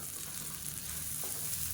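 Mint, dried red chilies and grated coconut sauté in a pan, giving a steady soft sizzle and crackle with faint stirring scrapes, heard alone and close.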